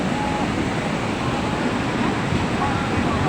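A river swollen by heavy rain in the mountains rushes past in a loud, unbroken roar of churning water, constant and close with no breaks.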